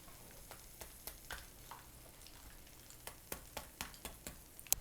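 Tofu steaks sizzle and crackle in hot oil, with a steady close frying hiss broken by frequent sharp pops and spits that come irregularly throughout.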